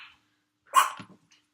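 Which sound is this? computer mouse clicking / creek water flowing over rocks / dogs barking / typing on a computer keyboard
dogs barking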